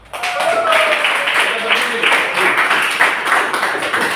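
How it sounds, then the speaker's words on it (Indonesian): A classroom of students applauding together, a dense sustained burst of clapping that starts abruptly and holds steady at close range for several seconds. "Mari kita beri aplaus."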